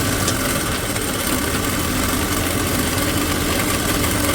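An electric sewing machine stitches pleats into an aso-oke fabric headband, giving a steady, continuous motor whir with a dense mechanical hum that runs unbroken and close throughout.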